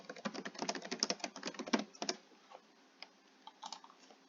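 Keys clack on a computer keyboard in a quick, quiet burst of typing for about two seconds, then a few scattered, isolated taps follow in a hushed room.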